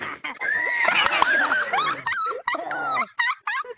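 A dog in a video game whimpers and whines in a string of high, wavering cries, close and fairly loud, broken by short gaps near the end.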